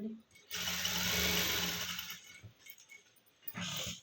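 A sewing machine runs steadily for a couple of seconds, then again briefly, as it stitches the back neck of a blouse, close and fairly loud, with a voice talking over it.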